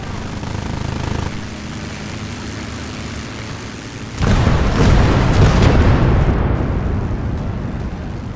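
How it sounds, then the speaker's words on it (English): Aircraft engine drone as a World War II bomber passes over an Eastern Front battlefield in Gates of Hell: Ostfront, then a sudden heavy burst of big bomb blasts rolling into a long rumbling roar. "It strafes some of the infantry, and once it reaches the target, it drops 3 big-ass bombs"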